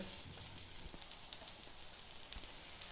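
Long slices of ridge gourd sizzle steadily in a pan, a continuous close crackling hiss with scattered small pops throughout, no voices over it.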